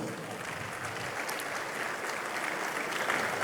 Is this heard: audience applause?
yes